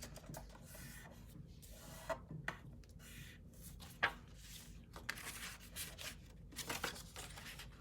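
Scored paper for a mini album is folded and creased by hand, producing faint rustling, rubbing and scraping with a few sharp crinkles and taps, quiet and close, with no voices.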